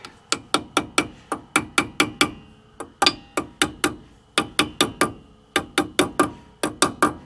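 Sharp metallic taps of a hammer seating a Dexter Easy Lube dust cap into a trailer hub, struck in quick bursts of four to six blows with short pauses between, close and clear with no talking.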